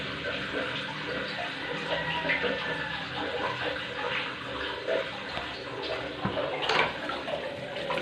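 Water runs continuously from a tap during a sanitary ware repair, a steady hissing flow with faint clatter and occasional background voices.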